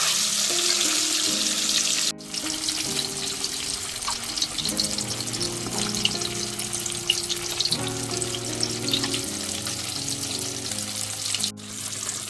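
Hilsa fish frying in hot oil, turned over in the pan: a steady, close sizzle with crackling bursts running throughout, no talk.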